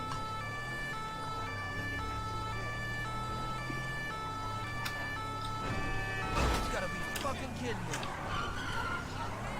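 A wailing emergency vehicle siren sounds in the video game GTA 5, rising and falling steadily throughout, with a brief crash-like burst partway through and a voice talking over it.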